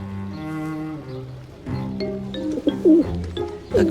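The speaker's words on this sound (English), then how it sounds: "A graceful young pigeon, if a little superior." Pigeon cooing in central Paris, a series of soft, rolling coos repeating close to the microphone with no voices.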